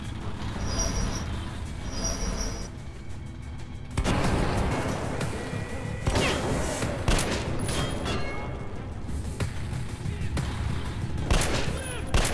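Gunfire in the video game Metro Last Light: bursts of shots crack over a rumbling, mechanical background, with sharp loud hits spaced irregularly through the stretch.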